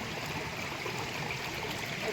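Water flows steadily past in a village river, a continuous close rushing and trickling wash with no breaks and no voices.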